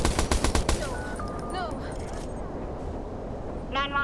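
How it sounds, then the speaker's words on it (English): Gunfire in a Watch Dogs video game shootout: a quick burst of sharp, rapid shots up front, then a softer sustained background with a few scattered tones and a brief electronic blip near the end. "Police, we got gunfire."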